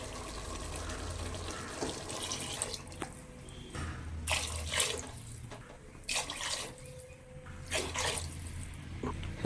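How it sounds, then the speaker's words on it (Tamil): Water runs steadily into a pot for chicken biryani, a continuous splashing stream with a few clinks and knocks of cookware. "நம்ம அளவு தண்ணி ஊற்ற போகிறோம்"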